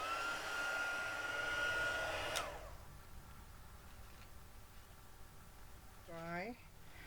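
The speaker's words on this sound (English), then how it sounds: "blast with the heat gun so that it's dry" A heat gun blows a loud, steady, whooshing stream of air to dry stamped ink, then cuts off abruptly, leaving quiet room tone with a short squeak near the end.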